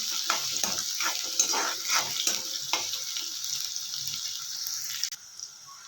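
Onions frying in a pan, a continuous close sizzle with irregular crackles and stirring scrapes that thin out toward the end, no talk.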